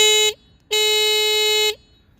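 Aftermarket horn with proximity alarm on a Jetson Bolt Pro electric scooter, sounding two loud, steady electronic horn blasts, a short one followed by a longer one, with no talking.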